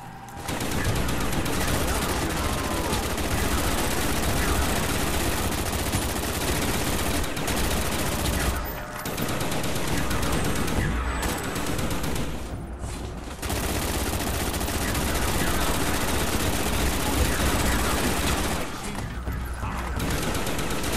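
An RPK machine gun fires in Black Ops zombies, loud and close, in long sustained bursts that nearly fill the whole stretch. Only a few short breaks interrupt the dense, roaring gunfire.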